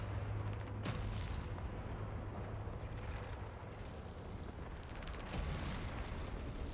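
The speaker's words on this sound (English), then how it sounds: "Are these like giant cannons? Yeah, they are." Giant cannons boom in an arena in the video game Saros, heavy blasts at about one and five seconds over a dense, rumbling battle din.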